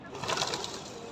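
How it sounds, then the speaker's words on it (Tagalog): Pigeons cooing in a flock at a seaside marina mall in Salmiya, Kuwait, soft murmuring calls blending with faint outdoor ambience over about a second. "Tulad dito, marami itong mga kalapati."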